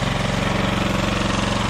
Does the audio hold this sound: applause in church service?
no